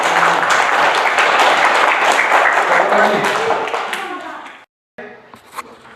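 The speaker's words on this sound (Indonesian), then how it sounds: "Baik, mereka tepuk tangan kita." Children in a classroom clap their hands together in a dense burst of applause, with a voice and a teacher talking over it before it breaks off.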